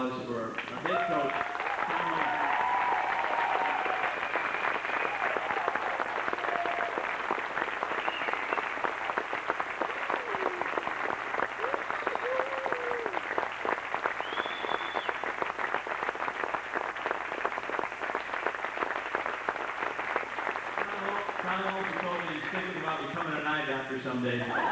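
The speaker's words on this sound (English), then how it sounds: "let's have a round of applause for our head coach" A crowd at a 1996 State B basketball tournament gives the head coach a long round of applause, dense clapping sustained for over twenty seconds while voices and scattered talk rise over it.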